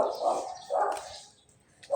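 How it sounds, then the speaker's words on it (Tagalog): A big dog barks outdoors in the Philippines, two loud close barks followed by a third starting at the end, with pauses between them. "Malaking aso dyan."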